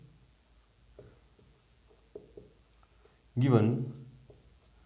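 A pen moving on paper gives faint, scattered scratching strokes while someone explains a maths problem, and the writing is quiet beneath the speech.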